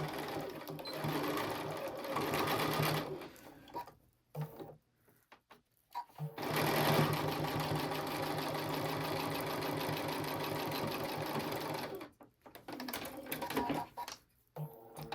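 Sewing machine stitching down the side of a small oven mitt, running in steady bursts with brief pauses between seams, close and fairly loud.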